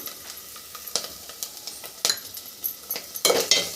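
Onion sizzles with ground masala paste in a hot pan for a fish curry, with a steady frying hiss and several sharp scrapes and clinks of a spoon against the pan.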